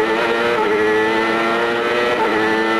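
A Honda-engined CART race car at the 1998 Cleveland race screams loud and close, its engine revving hard with a steady high-pitched whine and a brief pitch shift from a gear change. No voices are heard.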